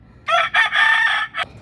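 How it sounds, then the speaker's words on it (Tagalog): A rooster crows on a farm with chickens kept below, one long clear call broken into several loud bursts, close by, with no talk over it. "Yan, mga manok natin dyan sa baba."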